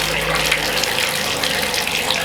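Hot water runs steadily from a shower supplied through a generator backup installation, a continuous close hiss and splash with no break, and no talk over it.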